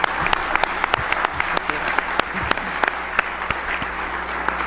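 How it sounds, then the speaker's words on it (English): A conference audience applauds steadily, with dense, even clapping from many hands and a few louder individual claps standing out near the front. "So let's give them another round of applause."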